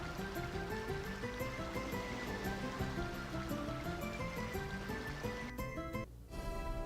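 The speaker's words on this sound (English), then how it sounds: "Let's head back to the Altamira entrance where the water is way too damn loud." Loud, constant rushing water roars at the Altamira entrance in Tales of Symphonia, a dense continuous wash like a waterfall with melodic game music layered over it, cutting briefly near the end.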